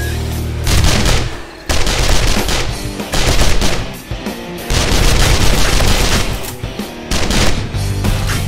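Heavy gunfire in the 7 Days to Die video game, loud rapid machine-gun bursts in several long volleys with brief pauses between them, close and dominant, with no talking.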